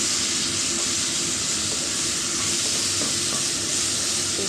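Ginger garlic paste being stirred with beef tripe in a pan, heard as a loud, steady frying hiss with faint scrapes of the spoon underneath and no speech.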